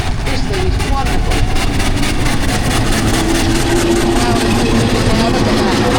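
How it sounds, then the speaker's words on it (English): Steam engine working under power at a steam rally in Parham Park, a loud continuous chuffing, rumbling drone with rapid rhythmic pulses close by, while people talk over it. "say a steam engine barks"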